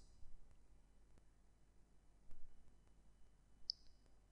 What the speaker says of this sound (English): click on charge and process